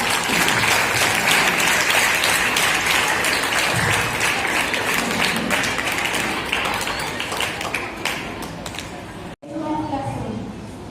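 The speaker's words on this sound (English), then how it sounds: "Give him a big round of applause." A crowd applauds with dense, sustained clapping for several seconds at a school Ramzan and iftar celebration, then it cuts off and a voice begins speaking.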